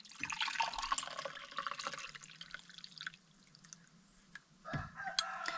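Birch tea poured from a pot through a sieve into a cup: a soft trickling, splashing stream, quiet and close, with a brief clink near the end.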